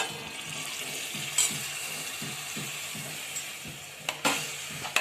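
Chickpeas tipped into a pan of sizzling masala cooked until the oil separates, a close frying hiss with rhythmic scraping and clinking of a spoon against the pan, plus a couple of sharper clanks.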